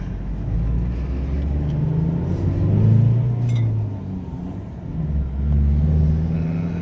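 A lifted Toyota Revo pickup with a six-speed manual gearbox on a test drive in traffic, its engine rumbling steadily and swelling in two gentle surges, heard from inside the cab with no talk.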